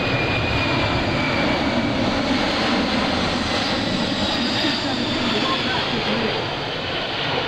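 Boeing C-17 Globemaster III jet engines roaring steadily at an Air National Guard open house air show, a loud continuous broadband rumble filling the whole span with a slight fade near the end.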